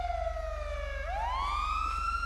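A police car siren in a video game wails loudly, sweeping down in pitch and then rising again over a steady low rhythmic hum, with no talking.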